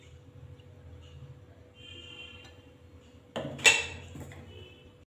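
White oil poured onto a hot tawa for frying kidney bean burger patties gives a short, bright splash and sizzle burst after a quiet stretch, with a faint clink from the vessel.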